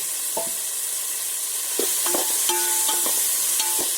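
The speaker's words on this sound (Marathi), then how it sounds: "तर झाकण काढून चांगली ढवळून घेते." Onion and tomato cooking in a pot give a steady, close sizzle, with several sharp scraping and knocking stirs of a spoon against the pot in the second half.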